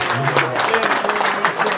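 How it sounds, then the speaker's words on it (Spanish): Guests at a wedding ceremony clap loudly after the exchange of rings, a dense, steady burst of applause with voices faintly mixed in beneath. "Fuertes palmas."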